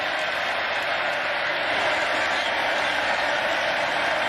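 A college football stadium crowd at McLean Stadium roars in a steady, dense wash of cheering and applause that stays loud and continuous throughout.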